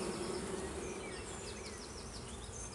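Honey bees swarming around a newly installed hive in a backyard apiary, a dense continuous buzzing with individual bees whining past, steady and close without any voices.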